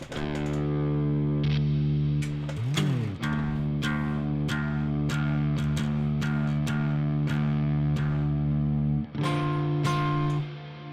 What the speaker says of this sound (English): Oh, it's a lot of reverb.